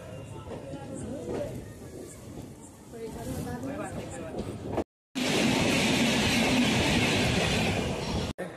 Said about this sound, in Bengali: এখন আমাদের ট্রেন এসে পৌঁছেছে আসানসোল জংশন স্টেশনে।